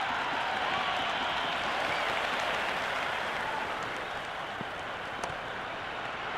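A packed cricket stadium crowd during a Pakistan vs England match keeps up a dense, steady roar of cheering and applause-like buzz, loud and continuous throughout with scattered claps and shouts.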